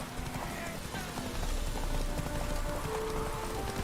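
Horse hooves clip-clopping at a gallop while riding Roach in The Witcher 3, a steady fast rhythm of hoofbeats under game ambience and music tones.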